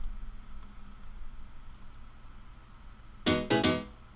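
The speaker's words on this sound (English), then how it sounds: "Kind of a housey chord, housey stabs" Two short, bright house-style chord stabs from a Massive synth snapshot burst out close together near the end, after a long stretch of near silence.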